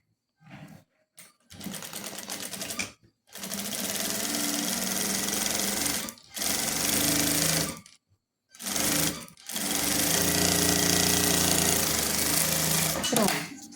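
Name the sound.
overlock serger machine sewing around crib headboard edge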